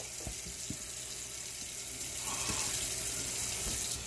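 Tap water runs steadily into a kitchen sink as turnip greens are rinsed, a continuous close hiss and splash that swells slightly louder midway with no talking.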